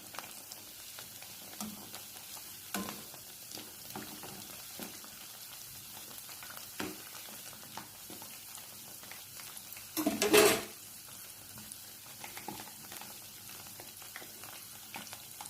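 Cabbage vada frying in hot oil, a faint, continuous crackle of bubbling with scattered pops and one brief, louder burst of sizzling partway through.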